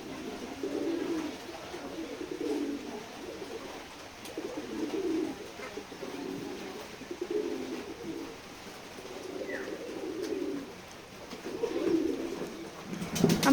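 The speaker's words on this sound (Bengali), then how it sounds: "আমাদের এই কবুতরগুলোকে সকালে খেতে দিয়েছিলাম।" Pigeons coo steadily at a village pigeon farm in Keshabpur, Jessore, a low rolling chorus of many birds, continuous and moderately near, with faint background noise and no talk.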